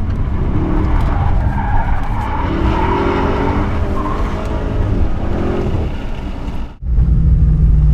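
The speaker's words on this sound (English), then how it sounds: "I'll spin it around this little bit of tarmac" A 2017 Alpina B7 xDrive long-wheelbase limousine spins on a small patch of tarmac, its tyres skidding and squealing loudly and continuously alongside a roaring engine, then the noise cuts off abruptly near the end.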